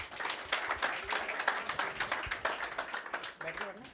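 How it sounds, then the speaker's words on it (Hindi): An audience at a Hindi poetry recital claps for a poet, with quick, uneven handclaps from a small crowd that sound moderately close and continue steadily for a few seconds. "एक बार अगर तालियां बजा दें आप।"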